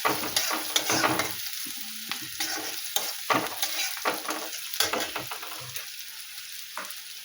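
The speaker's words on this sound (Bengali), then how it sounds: "একটু রসুন দিচ্ছে একটু আদা দিলাম দিয়ে ভালো করে কষিয়ে নেব" Garlic and ginger sauté in hot oil in a pan, sizzling steadily while a utensil stirs and scrapes in repeated strokes, close and moderately loud with no talking.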